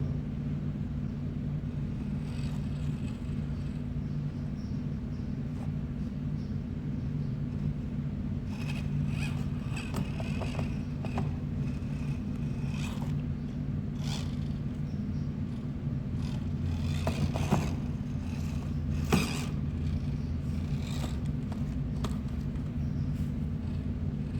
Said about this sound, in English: now we have the DinkyRC ESC all hooked up. And let's give her some throttle.